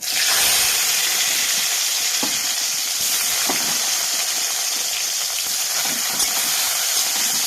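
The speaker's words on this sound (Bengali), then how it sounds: "বেগুনটা আগে ভালো করে ভেজে নেব" Brinjal pieces fry in hot oil for a spinach dish, producing a loud, continuous close hiss and sizzle with a few faint clicks of stirring.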